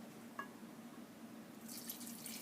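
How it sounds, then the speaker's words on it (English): Milk poured into a bowl of whisked dry ingredients for a pecan coconut cake, a soft continuous liquid trickle that swells toward the end, quiet and with no voices. "now I'm going to add 1/4 cup of the milk"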